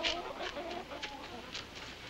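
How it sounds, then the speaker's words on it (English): Chickens cluck and murmur softly in short repeated calls, with faint chirping above a steady background hum. "Okay, let's put the chickens away."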